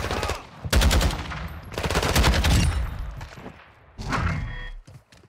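Lachmann 762 battle rifle in Modern Warfare II fires in loud, rapid bursts of gunfire, three long strings separated by brief pauses, close and forceful with booming low end.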